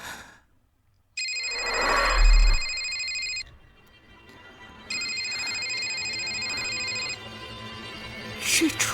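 Telephone ringing during a crowded birthday banquet, two long electronic ring bursts separated by a short pause, loud and close, with a voice sighing and speaking between and under the rings.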